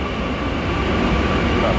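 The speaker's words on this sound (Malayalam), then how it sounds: "മെട്രാണ്, ട്രെയിനാണ് വരുന്നത് കണ്ടോ" A Kochi metro train rumbles steadily nearby as it arrives, a continuous low mechanical drone of wheels and motors with no pauses.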